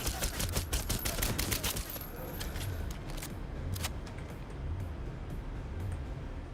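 A smart gun in Cyberpunk fires a rapid burst of sharp shots for about two seconds, followed by scattered single reports over a low rumbling background.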